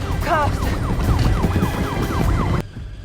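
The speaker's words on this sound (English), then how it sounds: "sirens close in" Loud wailing police sirens in a heist film scene sweep up and down over traffic noise, with a second siren pattern layered in, then cut off abruptly near the end.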